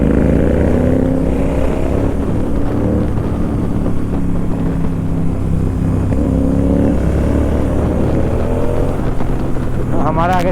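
A vehicle approaches on a Himalayan mountain road between Shimla and Chitkul, its engine a loud steady drone with shifting pitch over wind, heard from a GT 650 motorcycle; an army truck convoy is ahead.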